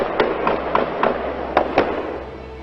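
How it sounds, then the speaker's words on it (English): A gunman fires on police officers responding to a family domestic call, about seven sharp cracks at an uneven pace over a steady background hum. "Gunfire erupting as a gunman waiting and hiding picks off police officers"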